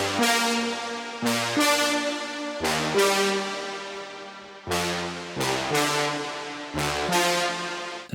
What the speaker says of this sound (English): the main lead sound that we actually have in the song is this trumpet